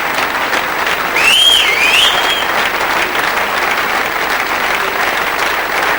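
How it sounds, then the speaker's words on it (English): Steady applause from a large crowd at the 1999 WEPF World Pool Championship, dense and continuous for the whole stretch, with a brief whistle rising above it near the start. "The crowd applauds, and they're on their feet."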